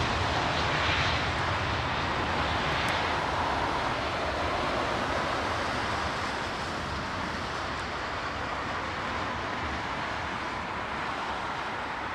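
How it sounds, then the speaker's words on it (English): A Luftwaffe Hercules military transport aircraft passes as a broad, steady turboprop roar with a dense wash of engine noise that holds at fairly even loudness throughout, distant rather than close. "It's a German Hercules"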